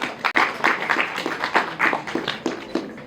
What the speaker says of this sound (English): Applause for Mr. Khan.